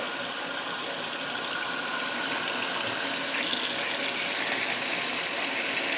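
Cold water gushes steadily from a tap into a pot in a continuous loud hiss, pouring without pause.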